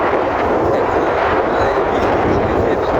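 Strong wind blows after a night of storm and rain, a loud, continuous roaring rush that buffets the microphone without pause.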